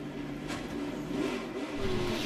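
NASCAR race car during the 2008 Camping World RV 400 driving down pit road, its engine giving a steady mid-pitched rumble with slight revving swells, fairly close and alone.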